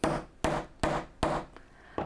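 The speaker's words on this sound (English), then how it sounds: "Give it a good bang with the hammer" A metal socket struck with a hammer, five sharp loud bangs in an uneven rhythm, close by and alone with no talk.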